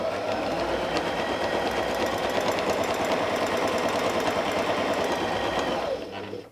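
A sewing machine stitching a quilt along a ruler runs in a fast, continuous, loud mechanical whir with rapid needle clatter, then winds down at the end.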